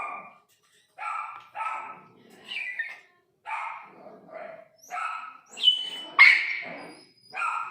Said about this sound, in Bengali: ওই বড় কুকুরটা বড় ডগি ডাকছে